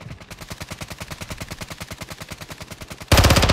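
Fast automatic gunfire in a Call of Duty match, a steady rhythmic burst of close shots that suddenly gets much louder and harsher for the final half second.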